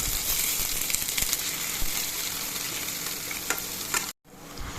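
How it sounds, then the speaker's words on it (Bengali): Onions fry in oil in a pan with a dense, continuous sizzle and occasional stirring scrapes, close and steady, before a brief cut to near silence at the end. "তেলের মধ্যে পেঁয়াজগুলোকে ভালো করে ভেজে নেব।"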